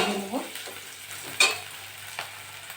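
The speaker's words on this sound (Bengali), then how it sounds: "একটু আদা বাটা দিয়ে দেবো। রেখে ভালো করে ভেজে নেব।" Ginger paste sizzles and fries in a pan while being stirred, with soft scraping strokes and a gentle crackle at low level, and no talking.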